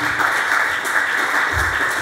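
Steady, dense clapping from a church congregation during a Pentecost sermon fills the whole stretch at moderate loudness, with no pauses.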